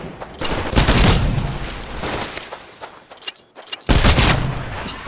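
Bursts of rapid gunfire rattle through a Titanfall live fire training exercise, loud and close, with a dense volley, a brief lull with scattered shots, then another heavy burst.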